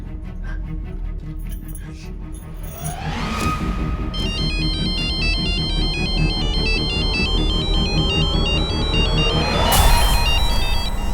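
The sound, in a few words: mobile phone ringtone ringing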